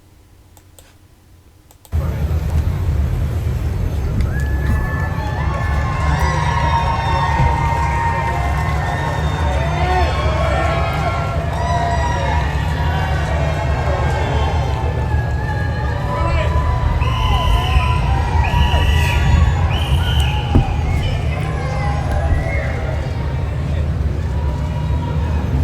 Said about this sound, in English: New cheers from crowd as Prince Harry arrived for We Are Invictus event at St. Paul's Cathedral